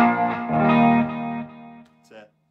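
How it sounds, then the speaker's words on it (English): An electric guitar plays through an EVH 5150 50-watt amp with light reverb, delay and chorus. Loud sustained distorted chords ring out, then stop with a short final note. "That's just the EVH 5150 50 watt."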